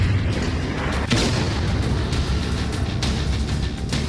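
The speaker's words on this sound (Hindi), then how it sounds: "रूसी टैंकों ने यूक्रेन के एक सैन्य ठिकाने को निशाना बनाया।" Russian tanks fire on a Ukrainian military position in wartime, heard as a dense, loud rumbling barrage with repeated booms, sustained and without voices.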